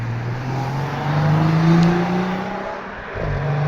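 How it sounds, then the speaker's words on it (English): A BMW 3 Series drives past at night on a road, its engine note rising and swelling as it nears, then fading away amid steady traffic rumble. "That BMW sounds really nice."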